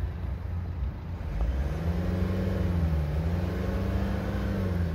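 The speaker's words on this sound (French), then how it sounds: "Là je viens d'accélérer jusqu'à 3000 tours à 2 reprises." A Renault Scenic 2 diesel engine is revved up to about 3000 rpm, the idle rumble rising into a steadier, harder drone that holds near the microphone, with no one speaking.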